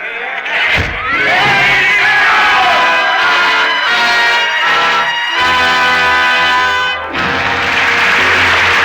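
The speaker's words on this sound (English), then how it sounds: "the roar of the crowd fades into the silence of 150 years ago" Crowd roar from a radio drama adaptation of A Tale of Two Cities, a loud sustained swell of many voices with shouts, rising and falling, breaking briefly near the start and just before the end, with tonal music running under it.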